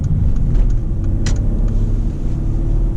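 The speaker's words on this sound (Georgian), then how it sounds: "ხმა აქვს, კარგი იგრძნობა 8 ცილინდრიანის ხმა" A 2013 Mercedes GL450 with a turbocharged V8 cruising on a highway gives a steady, deep low rumble of engine and road noise, continuous and fairly loud throughout with no talking.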